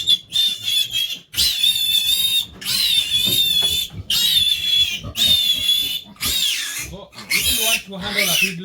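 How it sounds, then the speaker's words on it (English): A piglet squeals loudly and shrilly in repeated long, piercing bursts while being caught by hand, close up, with short gaps between cries and no clear talk. "So I'll just catch one piglet here."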